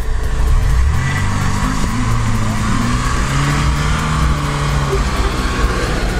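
A Lada Niva 4x4 engine roars loud and close while accelerating through severe off-road terrain, its revs climbing and holding in a strained, continuous drone with no talk.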